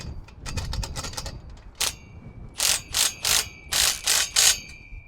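A ratchet tightening a carriage bolt on a wooden purlin brace, with quick clicking strokes at first, then six evenly spaced bursts of sharp pawl clicks, close and clear without talk.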